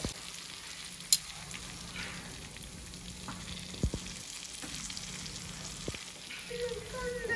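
Fish frying in ghee, a continuous soft sizzle and crackle at low level with a few sharp taps of a utensil against the pan.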